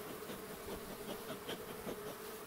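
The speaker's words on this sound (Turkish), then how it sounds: "Ana arı uçuyor resmen." Honeybees buzz steadily and close at an open hive frame as a queen bee takes flight in May, a dense continuous drone with slight swells and no voices.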